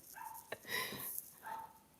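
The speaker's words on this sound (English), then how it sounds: "I do hear the dog, yeah, from my neighborhood." A small neighborhood dog barks in the distance outdoors, a few faint, thin yaps separated by short pauses.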